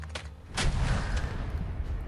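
Grenades explode in the video game Fallout 4: a couple of sharp, booming blasts in quick succession, followed by a dense, rumbling wash of noise that lingers to the end.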